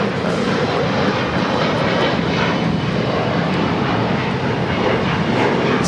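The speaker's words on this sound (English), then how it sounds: "This flight heading to Monterey, California, United Express, flight 5247 to E175 LR." A United Express Embraer E175 jet departs LAX for Monterey, a loud, steady, broadband engine roar that holds constant throughout, close and continuous.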